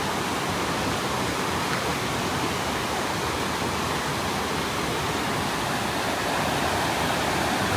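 Rushing river water near a power plant pours in a steady, loud broadband roar that keeps one even level throughout, with no voices over it.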